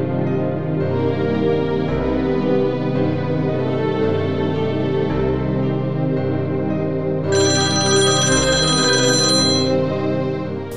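A telephone rings continuously with a loud electronic ringtone, a repeating multi-tone pattern that changes pitch partway through and plays alone with no talk.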